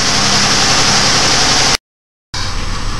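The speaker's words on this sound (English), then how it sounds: "You can see the idle is really fluctuating a lot." A warmed-up GM 3.4-litre engine idles with an unsteady, fluctuating idle: a steady, noisy drone that drops out briefly to silence before the rumble resumes.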